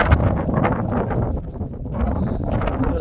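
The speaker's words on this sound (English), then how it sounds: "that wind's not real pleasant today" Strong wind buffets the microphone outdoors on a ranch, producing a continuous loud, rough rumble with gusty swells throughout.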